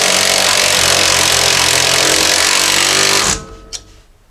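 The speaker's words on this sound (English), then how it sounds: "Now I'm just going to tighten this up." A power tool tightens a sway bar link bolt on a 2016–2021 Jeep Grand Cherokee, a loud, steady, harsh whir running for about three seconds, then stopping abruptly, followed by a faint clink.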